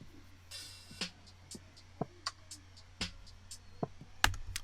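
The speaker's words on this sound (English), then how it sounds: "So all of the drums together sound like this." Lo-fi drum pattern built in Soundtrap with all drum parts playing together: soft, sparse hits landing on a steady slow beat over a low hum, quiet and muffled throughout.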